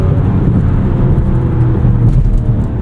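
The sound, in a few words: Mazda CX-70 3.3 turbo SUV driving, transmission downshifting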